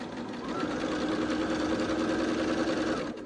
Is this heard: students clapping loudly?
no